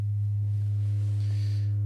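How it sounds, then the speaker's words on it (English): Red Panel Model 158 synthesizer module droning a steady low sine tone, loud and unbroken throughout with faint upper harmonics, no voice. "So here's the sine wave"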